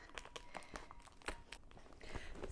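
Tightly vacuum-sealed packaging holding new pillows is pulled open, giving a close, steady run of plastic crinkling and crunching with sharp tearing bursts throughout.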